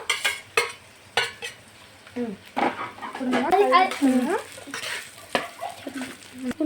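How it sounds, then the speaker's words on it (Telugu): Cooked rice tipped into a pan of fried tempering and stirred for lemon rice in a home kitchen, with intermittent scraping and clinking of a spoon against the pan while someone talks over it. "ఇప్పుడు మనం రైస్ వేసుకోవద్దాం."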